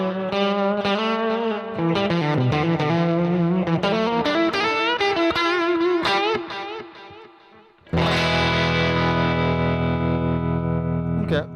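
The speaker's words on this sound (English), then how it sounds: "Let's throw in maybe a dyne delay, which is more of like a Boss DD3, so more like a digital delay kind of sound." Electric guitar runs through a digital delay in the style of a Boss DD3, played as a distorted melodic phrase with echoing repeats, then a long sustained ringing chord at the end.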